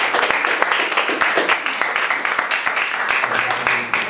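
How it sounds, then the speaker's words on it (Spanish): A small gathering at a farewell event claps for an honoree. Individual hand claps come through sharply and close, in an uneven pattern rather than a full roar. "Un aplauso"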